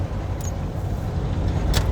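Steady, rumbling road noise from inside a moving car on a busy holiday-weekend highway, a continuous low drone with a couple of brief faint clicks.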